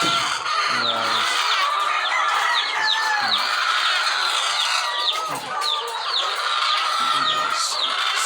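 Hens cluck and chirp steadily in a farm setting, a dense overlapping flock chorus with occasional louder calls, continuous and fairly close throughout.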